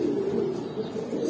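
A Giribaz pigeon coos steadily and close by, a soft continuous low murmur with faint background hiss and no talking.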